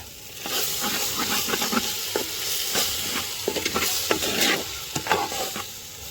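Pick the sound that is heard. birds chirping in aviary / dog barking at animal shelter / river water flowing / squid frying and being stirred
squid frying and being stirred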